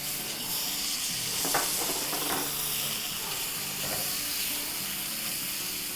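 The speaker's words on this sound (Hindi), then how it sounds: "बस इसको हम 30 सेकंड फ्राई करेंगे।" Two tablespoons of tomato puree frying in a pan of masala for vegetarian kebabs, giving a steady, close, hissing sizzle throughout with a few brief stirring scrapes and no voices.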